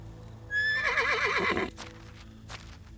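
A horse in the video game Medieval Dynasty gives one clear, close whinny lasting about a second, with a wavering, descending pitch, followed by soft hoof clops and quieter background sounds.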